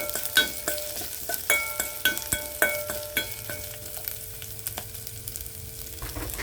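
Finely chopped garlic and ginger frying in a pan, a soft steady sizzle under repeated sharp metallic clinks and scrapes of a spoon stirring against the pan, close and without talk.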